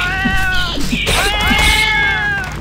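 A cat meows in the dungeon game Fate, two drawn-out, wavering cries close and loud, the second longer and rising, with faint game noise underneath.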